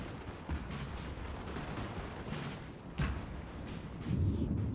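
Musket volleys crackle across a Napoleon: Total War battlefield, a dense continuous rumble of distant gunfire with a few sharper, louder bursts near the end and no talk over it.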